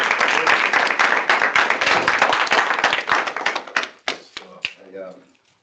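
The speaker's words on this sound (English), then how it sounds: "give me a round of applause" Round of applause at a student senate general assembly meeting: dense, close clapping from a small group that thins into scattered final claps and fades out.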